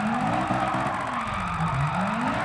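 All-wheel-drive car drifting sideways in Gran Turismo 7, with a steady, loud tire squeal over a revving engine whose pitch sweeps down and back up as the slide continues.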